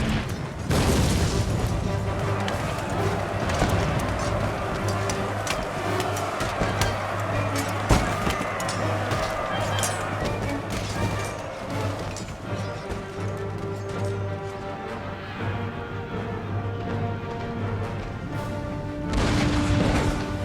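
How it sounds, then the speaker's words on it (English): Continuous artillery booms and crackling rifle volleys roll through a battle in Empire Total War, dense and loud throughout with layered explosions, a sharp crash near the middle and sustained mechanical rumble underneath. "they started firing upon my artillery"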